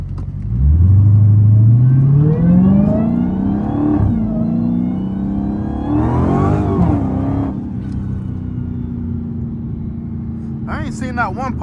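A Dodge Hellcat engine revs hard while driving, rising in pitch through the gears with a deep, loud roar, easing back and surging again, heard from inside the car.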